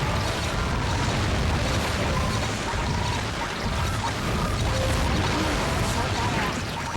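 Explosions in the GameCube game Ty the Tasmanian Tiger 3, a dense, continuous roar of blasts and mechanical game effects that stays loud throughout with no distinct pauses.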